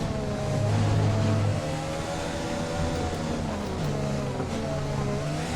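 Formula 1 race car engine in the F1 2020 game during a race in Austria, a steady droning whine with shifting harmonic pitch as the throttle is worked through a corner, loud and continuous.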